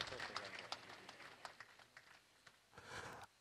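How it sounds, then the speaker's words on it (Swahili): An audience applauds in a scattered, uneven patter of claps at a signing ceremony for an oil pipeline agreement between Tanzania and a partner, fading and swelling briefly toward the end. "Tuwapigie makofi mengi sana."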